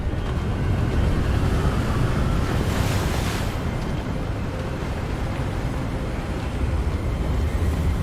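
Steady wind and crashing waves in a Harry Potter video game, a loud, continuous roar of surf and gusting air with no break or speech throughout.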